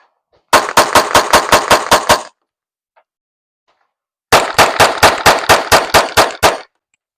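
Two loud bursts of rapid gunfire from a Springfield Echelon 4.0C compact pistol, about seven evenly spaced shots in each string, separated by a couple of seconds of silence.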